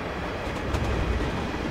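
Cargo trains pass on the West Coast Main Line in Train Simulator 2015, a steady loud rolling rumble with faint rhythmic wheel clatter, heard near and alone without talk.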